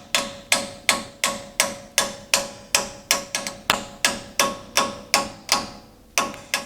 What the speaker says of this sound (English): It's gonna be a little punch or something I can hit.